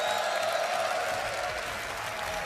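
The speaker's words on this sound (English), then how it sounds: "We've got a raucous crowd" A raucous live crowd at an Age of Empires 2 esports semi-final, the Red Bull Wololo Londinium event, applauds and cheers in a dense, continuous roar.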